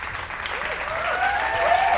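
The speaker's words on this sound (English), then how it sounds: "let's give our guest one final round of applause." An audience claps for a guest at the close of a talk show, a short burst of applause that builds slightly louder toward the end, with a voice speaking over it.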